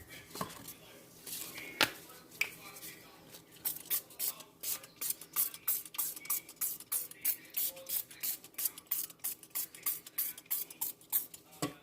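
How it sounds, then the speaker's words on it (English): A quick run of crisp spray-bottle squirts of rubbing alcohol over cold process soap, about twenty short hissing pumps in a steady rhythm, close by, after a few scattered clicks and knocks. "give them a spray with the rubbing alcohol."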